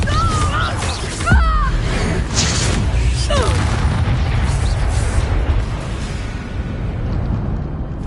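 Confringo spell explosions from the video game Hogwarts Legacy boom in a loud, continuous barrage of blasts and crashes, mixed with battle effects and shouted spell voices.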